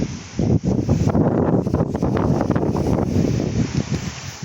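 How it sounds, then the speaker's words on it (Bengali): Strong wind sweeps across a rice field, roaring and gusting close to the microphone with rough buffeting rumble and rustle, no rain falling. "প্রচুর বাতাস।"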